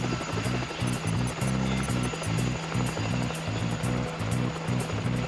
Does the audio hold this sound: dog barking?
no